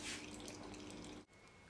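Spiced apple and quince fruit liquid poured through a jelly strainer on a kitchen floor: a steady, dense rush of splashing and trickling, fairly close, running continuously before a brief break.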